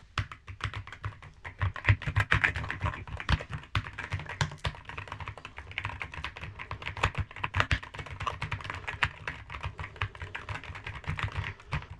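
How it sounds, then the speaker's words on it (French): Rapid typing on an Akko 5075B mechanical keyboard, a dense run of crisp clicks and clacks at an uneven pace, close up with no talking. "Alors ce clavier a vraiment un super son lorsqu'on tape."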